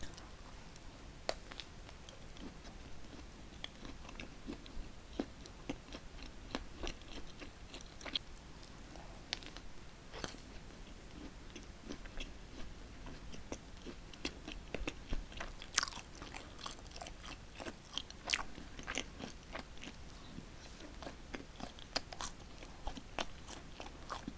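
Close-miked bites and chewing of Krispy Kreme Christmas doughnuts dusted with fine coconut powder, soft crunches and moist mastication repeating steadily throughout with no talking.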